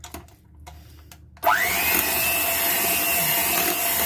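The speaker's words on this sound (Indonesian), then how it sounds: "Kemudian kita mixer sebentar lagi. Kita mixer hingga tercampur rata saja ya." An electric hand mixer starts with a sudden loud whine and runs steadily at high speed, beating tapai and cheese cupcake batter mixed with sweetened condensed milk, after a quieter stretch of faint knocking.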